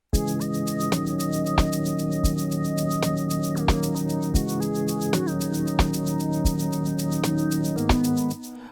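A bright synth lead plays a steady melody of sustained notes over a thumping amapiano beat with regular kicks, loud and upfront until it cuts off near the end.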